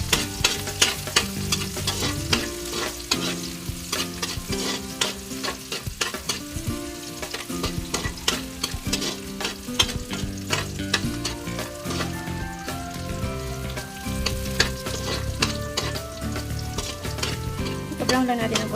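Garlic and onion sauté in a pan of oil for a pork pancit, giving off a steady, dense sizzle that runs unbroken throughout, with tonal music playing underneath.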